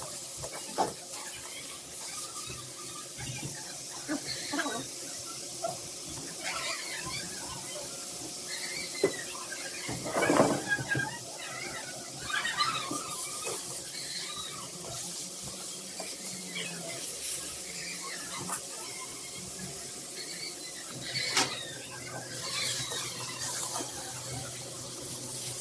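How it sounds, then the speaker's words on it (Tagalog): Marinated meat for adobo fries in a pan, giving a steady, fairly quiet sizzle with occasional brief pops and stirring clatters throughout. "So, prito no? So, tama-tama lang na mag-brown-brown siya"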